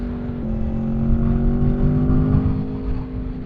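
Aprilia Tuono 1100 Factory 2021 motorcycle engine held at steady revs at speed, a loud continuous droning hum with a slight pitch shift early on and wind rush, heard from the rider's position with no talking.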